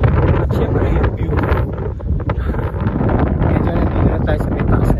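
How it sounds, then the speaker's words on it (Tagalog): Strong wind roars steadily into the microphone for several seconds on a high area at Kaanapali, Hawaii, a loud, continuous buffeting rush with occasional voices faintly underneath. "Kaya medyo malakas ang hangin"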